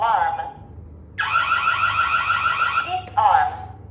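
A loud electronic alarm blares in harmonic-rich tones, with a synthetic voice announcement cutting in between bursts of the siren.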